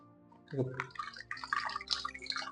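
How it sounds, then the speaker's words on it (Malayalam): One litre of milk pours into a pan for palada payasam, making a soft, splashing liquid gurgle that starts abruptly and continues unevenly at close range, fairly faint. "അങ്ങനെ 1 ലിറ്റർ പാല് ഇതിലേക്ക് മിക്സ് ആക്കാം"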